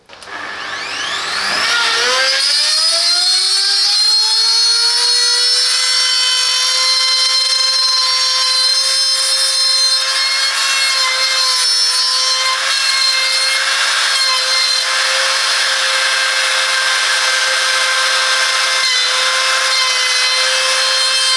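A Parkside PPMF 710 A1 multifunctional milling machine with a 710-watt motor spins up within two seconds, then holds a loud, steady high-pitched whine, close and alone with no voices.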